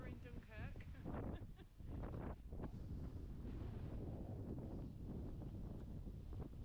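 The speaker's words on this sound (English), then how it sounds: "I've never been in such a windy place" Strong coastal wind at Dunkirk buffets the microphone in a continuous roar and rumble, while a voice talks through the gusts.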